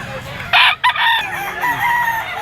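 A yellow-legged sinibalang stag rooster crows once nearby, a loud rising-then-falling call over faint market background noise.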